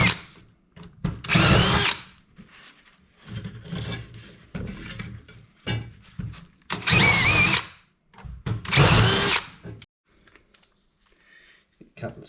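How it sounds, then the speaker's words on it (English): A power drill whirs in several short bursts, enlarging holes for a catch can mount with a grinding rasp, separated by pauses with faint handling noise. "Drill these ones out a bit bigger."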